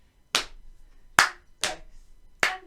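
Four sharp, separate claps from a class in a primary school music lesson, spaced in an uneven rhythm pattern with short decays and quiet gaps between them.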